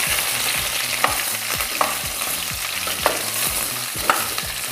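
Garlic stirred in a pan for mushroom soup sizzles steadily, with a utensil scraping and tapping the pan in a regular rhythm about once a second, close and without talk.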